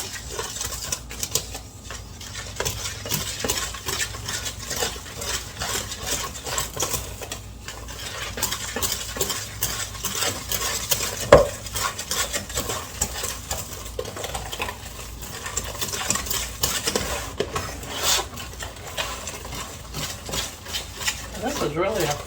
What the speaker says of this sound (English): And then it's 1 cup of milk. And we'll give that a mix.